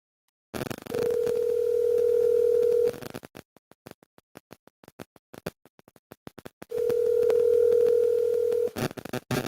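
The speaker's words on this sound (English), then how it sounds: "So I'm about to give him a call" A steady telephone ringback tone sounds twice, separated by crackly clicks and line noise, clear and close.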